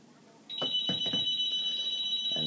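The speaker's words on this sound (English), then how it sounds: "And there goes the phone." A telephone starts ringing abruptly, a loud electronic ring that continues steadily, with a few brief knocks and clatters underneath and no speech.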